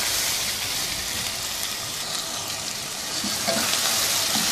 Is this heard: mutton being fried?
yes